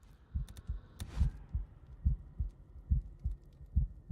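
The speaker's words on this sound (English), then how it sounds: "I hear the heartbeat, so there's definitely someone inside this trailer." A steady heartbeat pulses from someone inside a trailer in Days Gone. The double thumps are low and muffled and repeat at an even pace, with faint clicks and a high ambient hum behind them.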